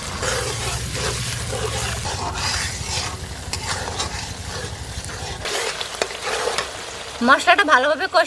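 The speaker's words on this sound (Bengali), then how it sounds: "মশলাটা ভালোভাবে কষিয়ে নিয়েছি, তেলও ছেড়ে দিয়েছে।" Spice paste of turmeric, cumin, ginger and dried chilli paste sizzling and frying in oil for hilsa pilaf, with steady stirring scrapes throughout and a brief clatter near the end.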